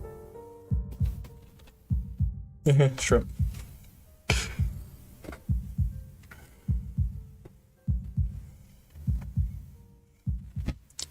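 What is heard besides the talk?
heartbeat sound effect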